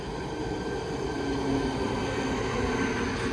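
A continuous low rumble of a passing double-deck train in the Czech Republic, steady and fairly loud, with faint high tones over the roar and no voices.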